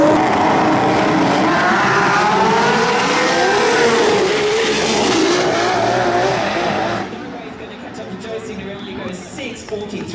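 A Gas Motorsports Toyota Celica pro stock drag race car roars at full power on its run at the FX Winters 2013 event, a loud sweeping engine howl that holds for about seven seconds and then drops away, with commentary likely talking over it.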